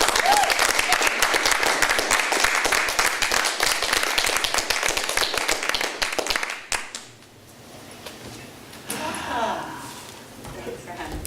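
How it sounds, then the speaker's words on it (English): A studio audience applauding loudly and continuously for several seconds, then the clapping cuts off abruptly as people begin talking quietly. "So let's give Tara a round of applause."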